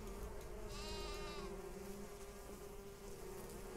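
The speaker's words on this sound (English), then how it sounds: "Those bees hurt. Like a lot." Bees buzz steadily in the Viking survival game Niffelheim, a continuous droning hum under the game's ambience, with a brief bleat-like call rising near the start.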